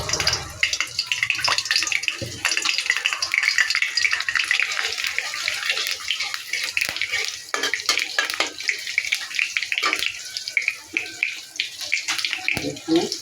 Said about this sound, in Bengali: তেল গরম হয়ে গেছে এবার ফোড়নে দিয়ে দেবো গোটা গরম মশলা আর গোটা জিরে